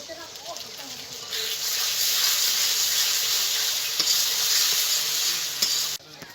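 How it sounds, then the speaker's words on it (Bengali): Onion fried red with green chilli and ginger-garlic paste in a pan for a katla fish kalia, sizzling loudly and steadily after a quieter start, with stirring and a brief stop near the end. "পেঁয়াজটা আমার লাল লাল করে ভাজা হয়ে গেছে, এবার দিয়ে দেবো 2-3টে কাঁচা লঙ্কা, আদা আর রসুন পেস্ট করে নিয়েছি"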